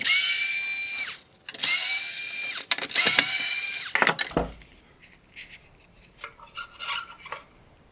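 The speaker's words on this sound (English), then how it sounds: "Next, I'll remove the 3 T20 torque screws holding in the turn signal reflector." A power driver whirs in short high-pitched bursts, removing T20 Torx screws from a 2016-2022 Camaro xenon headlight, followed by quieter clicks and plastic handling sounds up close.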